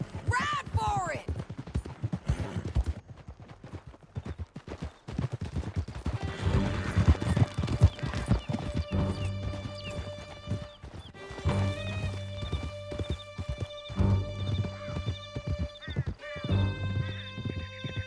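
Horses gallop with steady clip-clop hoofbeats in the Red Dead Redemption II video game, mixed with whinnies, gunfire bursts and a game music score, with voices speaking over the loud, busy action.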